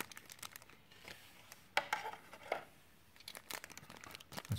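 A plastic bag packaging a Tomica die-cast model car crinkles and rustles in short irregular bursts, close and fairly quiet, with a few sharper crackles.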